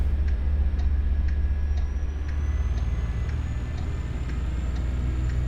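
Turn indicator ticking steadily in a simulated truck cab in Euro Truck Simulator, evenly spaced soft clicks over a low, constant engine drone.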